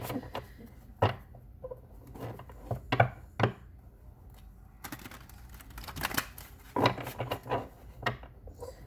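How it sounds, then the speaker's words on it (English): Tarot cards being shuffled by hand during a twin flame reading, a string of soft, dry riffling and tapping bursts, some sharp, spread unevenly across the stretch at close range with no talking. "one more shuffle"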